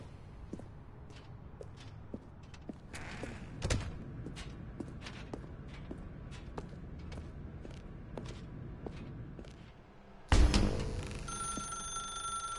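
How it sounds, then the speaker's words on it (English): A telephone rings inside The Stanley Parable video game: faint, repeated ringing pulses over quiet room tone, followed near the end by a sudden louder burst of noise. "Now pick up the phone."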